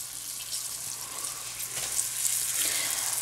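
Burger patties frying in hot oil in a pan, a soft, steady sizzling hiss with faint pops running throughout at low level.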